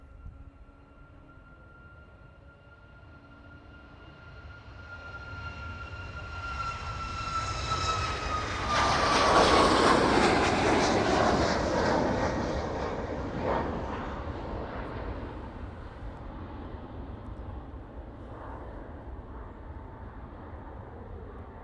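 A passenger jet bound for Lanzarote takes off, its engine roar swelling over several seconds to a loud peak with a fading whine, then easing off into a steady distant rumble.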